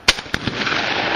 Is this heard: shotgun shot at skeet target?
yes